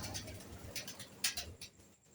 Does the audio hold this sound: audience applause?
no